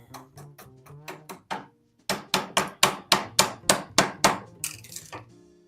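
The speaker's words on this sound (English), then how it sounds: "I'm going to switch up to a larger chisel." Hammer blows on a chisel ring out in a steady series, a few lighter taps first, then about a dozen loud, evenly spaced metallic strikes close by while building a garage garden platform.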